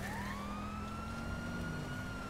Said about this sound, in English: Hey, slow down, my sirens are on.